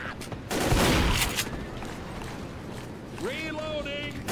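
Gunfire in the video game Left 4 Dead, a loud burst of rapid automatic shots early on, followed by game ambience, background action and a voice speaking over it.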